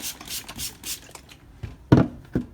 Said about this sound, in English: I'm hearing all kinds of scratching on the stone.